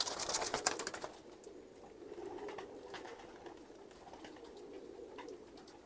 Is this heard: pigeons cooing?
yes